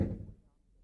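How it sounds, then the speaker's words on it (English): A single dull knock thuds against a door as a sound effect, low and brief, fading quickly into quiet. "Someone knocks at the door."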